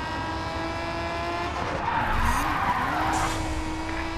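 In the Grid 2 racing game, a car's tires squeal during a drift. The screech wavers over a steady engine drone, loud and alone with no voices.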